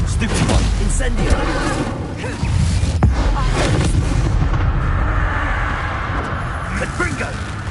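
Spell blasts from Bombarda and Incendio in the Hogwarts Legacy video game, dense booming impacts and crackling bursts layered under loud game noise, with a few sharp transients standing out.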